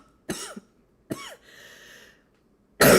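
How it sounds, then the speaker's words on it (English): Two short, harsh coughs close to the microphone, a pause between them, followed by a faint hum and a sudden loud burst at the end. "I'm about to cough."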